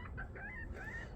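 Fayoumi and local hens clucking in a small flock, with a few short, faint, warbling calls against a low background rumble.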